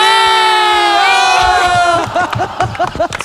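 A studio audience at a Christmas-themed TV game show lets out a loud, sustained cheer that breaks into a burst of clapping and scattered shouts, close and full.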